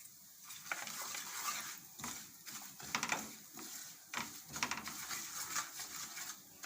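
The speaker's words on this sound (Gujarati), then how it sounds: "તો આપણું તેલ ગરમ થઈ ગયું છે તો પહેલાં આપણે આ મસાલો છે બધું શેકી લેવાનું છે એટલે હિંગ નાખી દેવું આમાં" Spices and asafoetida sizzle in hot oil in a kitchen pan, heard as soft, uneven bursts of crackle and scraping stirs that rise and fall, fairly quiet throughout.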